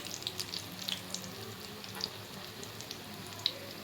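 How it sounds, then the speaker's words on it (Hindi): Besan pakoras fry in oil in a frying pan, giving a quiet steady bubbling sizzle dotted with small crisp pops throughout. "पकौड़े अब अच्छी तरह से फ्राई हो गए हैं"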